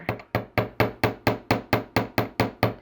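Light hammer taps on the small bottom wire loops of art deco wire-weave chandelier earrings, about eleven sharp, evenly spaced metallic strikes in a steady rhythm, close and clear with no talk.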